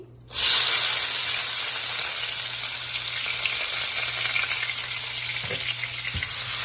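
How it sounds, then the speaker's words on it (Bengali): Onions hit hot oil already popping with cumin seeds, the oil reused from frying fish, and burst into a loud, close, continuous sizzle that stays steady throughout. "তারপর জিরাটা একটু ফুটে উঠলে পেঁয়াজটা দিয়ে দিচ্ছি"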